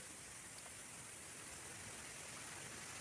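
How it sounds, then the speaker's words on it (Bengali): Steady broadband rushing noise of a storm with strong wind and intermittent rain, constant and fairly loud throughout with no voices. "এদিকে দেখো ঝড় উঠেছে খুব জোরে হাওয়া দিচ্ছে"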